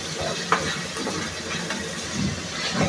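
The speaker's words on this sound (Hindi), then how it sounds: "देखिए चिकन भून रहे हैं हम और ऑयल जो है आहिस्ते आहिस्ते ऊपर आ रहा है" Chicken fries in oil in a pan with a steady, close sizzle and hiss, broken by an occasional scrape or knock of stirring, with no voices.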